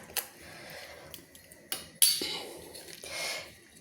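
A metal utensil scrapes and clinks against a bowl while fish is mixed with spice paste for a Bengali steamed chang fish dish, sharp close knocks separated by softer stirring.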